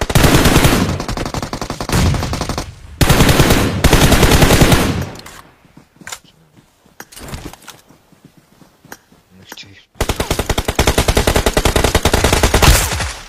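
Rapid automatic gunfire from a shooter video game, loud bursts of sustained shots in the first few seconds, a quieter stretch of scattered single shots and movement, then another long loud burst near the end.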